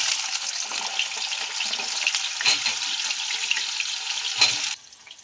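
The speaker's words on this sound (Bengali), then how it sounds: "ডাঁটাগুলো একটু ভেজে নেব" Malabar spinach stalks fry in hot oil, a steady bright sizzle with occasional stirring clinks, then cutting off abruptly near the end.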